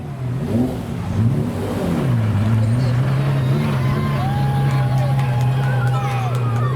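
A McLaren F1 GTR race car drives on a public road, its engine droning steadily and loudly at a high pitch with rising revs, over crowd chatter and nearby voices at a car show.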